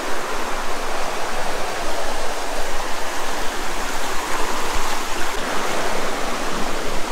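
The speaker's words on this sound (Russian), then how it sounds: "Вот мы переходим речку." A steady, full rush of flowing river water, like a stream running over stones, constant and loud with no voices, near the El Limón waterfall at Las Terrenas, Samaná, Dominican Republic.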